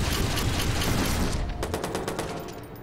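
Rapid automatic fire from a 416 assault rifle in the video game Watch Dogs, a dense continuous burst of close, loud shots that breaks into distinct separate cracks toward the end.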